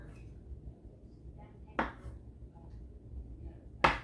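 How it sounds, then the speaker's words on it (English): A knife halving olives on a kitchen cutting board, two sharp, isolated chops separated by a quiet stretch, close and clear over low background hum. "we're just gonna cut these babies in half"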